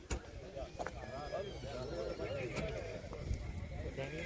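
A young colt stands among horses at a horse race gathering in Kutch, Gujarat, with hoof clops and shuffling in a busy crowd, under steady chatter from people nearby.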